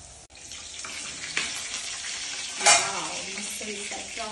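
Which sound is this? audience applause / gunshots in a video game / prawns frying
prawns frying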